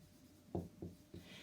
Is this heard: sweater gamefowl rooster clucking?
no